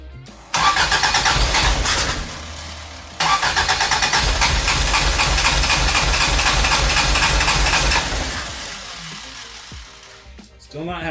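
A Toyota AE86 with a 4A-GE engine on Keihin FCR41 carburetors cranks and catches twice, running with a loud, rapid, buzzy rhythm close up before the revs settle and fade toward the end.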